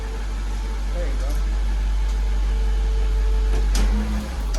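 A 1998–2003 Jaguar XJR, XJ8, XKR or XK8 engine idling in a garage, a steady low hum held throughout with a faint clunk near the end.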